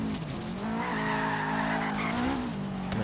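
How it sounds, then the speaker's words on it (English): A Subaru STI engine roars steadily in Forza Horizon 3 while tires squeal and skid continuously, with a smooth, synthetic racing-game quality. "Gotta love the sound of a Subaru, for sure."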